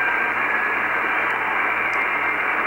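Weak BPSK31 digital-mode signals near 21.070 MHz on the 15 m amateur radio band come through as faint thin tones buried in steady receiver static.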